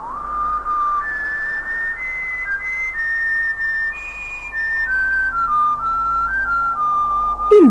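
A person whistles a tune in a clear, steady melody of held and gliding notes, close and alone, lasting several seconds with short breaths between phrases.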